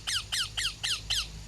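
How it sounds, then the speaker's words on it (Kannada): Parrot chicks give five shrill, evenly spaced squawking calls in quick succession, close and clear over a faint low background hum. "ನೋಡ್ರಿ ಫ್ರೆಂಡ್ಸ್ ಹೆಂಗೆ ಕೂಗ್ತಾ ಇದಾವೆ ನಮ್ಮ ಗಿಳಿ ಮರಿ"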